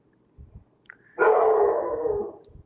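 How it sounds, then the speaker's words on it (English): A dog lets out a loud, sustained howl lasting over a second, preceded by a brief yip and some faint low thumps, with no talking. "Dog's upset."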